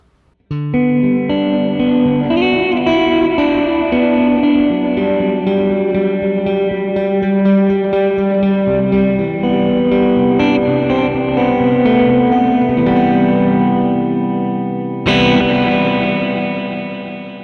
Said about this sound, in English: let's hear it with a reverb going into the delay